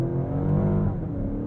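A 2023 Alpina XB7 accelerating from inside the cabin, its engine droning steadily with a rising roar and little break between quick gear shifts.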